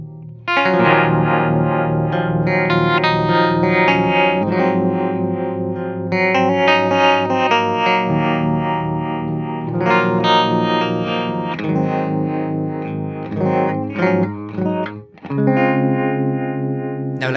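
Electric guitar run through an NRG Effects CHEWER Mini modulation pedal, chords and ringing notes taking on a wobbling, warbly chorus-like shimmer; played close and continuous for most of the passage, with a brief dip near the end.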